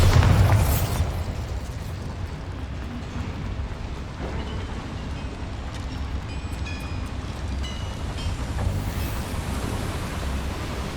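Spell explosions go off in the video game Hogwarts Legacy, opening with a loud blast and then a long rumbling, crackling wash of debris with a few smaller pops.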